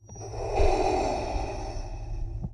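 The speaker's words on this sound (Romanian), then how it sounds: "din beznă se aude respirația lui Darth Vader" A Darth Vader breathing sound effect: one long, hissing, mechanical respirator breath that swells and then slowly fades, loud and close with no talk.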